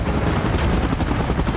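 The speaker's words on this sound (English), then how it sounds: "Chopper in position." Helicopter in the mobile battle game PUBG Mobile, a loud continuous rotor thump and engine drone filling the whole moment, with no talking.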